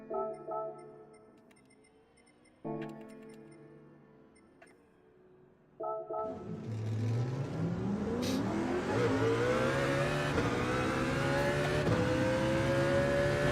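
Mercedes CLK race car in Gran Turismo 7 at the Nürburgring, engine revving up through a long climbing pull after a few short blips at idle, loud and steady with rising pitch.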